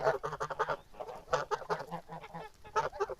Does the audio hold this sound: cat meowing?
no